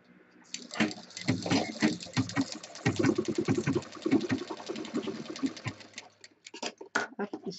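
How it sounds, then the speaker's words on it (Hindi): A sewing machine stitches a handbag in short, uneven bursts of rapid mechanical clatter, starting and stopping repeatedly, close and fairly loud, with faint voice-like sounds mixed in. "अब इसी तरह से इधर भी सिल लेंगे। दोनों तरफ हमें मशीन चलानी है।"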